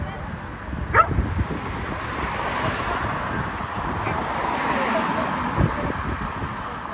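A dog barks a few times outdoors at a street protest outside a migrant hotel in Aldershot, the short barks mixed into steady crowd murmur, voices and passing road traffic.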